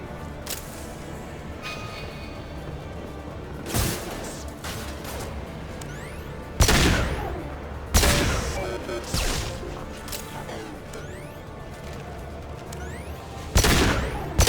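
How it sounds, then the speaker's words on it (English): High-impact gunfire in the video game Mass Effect 2: several heavy booming shots, each with a short decaying tail, ring out at irregular intervals over a steady low background rumble. "Heavy fire imminent. Firing a high-impact shot."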